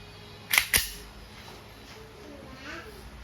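A WE Glock 17 airsoft pistol with silver slide and black frame fires two sharp, close snaps in quick succession, followed by faint background voices.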